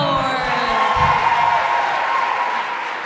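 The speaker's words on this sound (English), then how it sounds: "Round of applause." Crowd at a school learner-led dialogue on gender-based violence applauds and cheers, a dense, steady wash of clapping with whoops throughout, loud and close.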